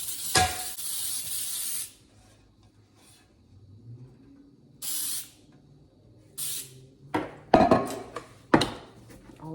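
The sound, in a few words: spraying Baker's Joy baking spray into a bundt pan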